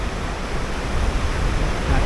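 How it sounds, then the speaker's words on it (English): Steady rushing water from a waterfall at Mystic Beach on Vancouver Island, a dense continuous roar with surf-like wash, fairly loud and unbroken, with no talking. "here we are, coming up to the waterfall, which is over to the left"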